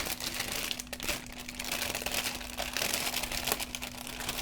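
Continuous close-up crinkling of thin plastic as a bag holding Gundam Aerial HG 1/144 model kit runners is torn open, with steady rustling throughout and a faint electrical hum underneath.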